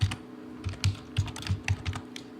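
Rapid clicking keystrokes on a computer keyboard as a name is typed, a close, steady patter of key taps in quick bursts.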